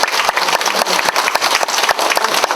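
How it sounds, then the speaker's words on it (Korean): An audience at a spring spirituality school in Myeongdong Cathedral applauds loudly to welcome two priests, producing a sustained, thick roar of clapping at full strength. "큰 박수로 환영해 주시기 바랍니다"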